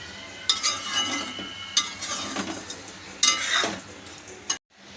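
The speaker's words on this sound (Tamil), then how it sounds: "இந்த எண்ணெயிலே அப்படியே லேசாக ஒரு தடவை நம்ம இதை கலந்து விட்டுக்கலாம்." Eggplant frying in oil is stirred with a utensil, giving a steady close sizzle with several scraping strokes and clinks against the pan, then a sudden stop at the end.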